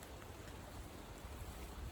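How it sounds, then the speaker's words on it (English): Steady rain falls on garden foliage, a faint, even hiss of drops with no talking. "we're really getting some rain now"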